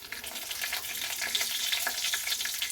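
Nigella seeds and a bay leaf sizzle in hot mustard oil left from frying fish, a steady bright crackle of spices hitting the oil, close and continuous with no voices.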